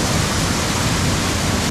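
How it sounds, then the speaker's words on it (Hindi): Tantya Mama waterfall pours down in a steady, loud, broadband roar of falling water that stays constant throughout, with no voices. "ये इतना बड़ा वाटरफॉल गाइस गिर रहा है"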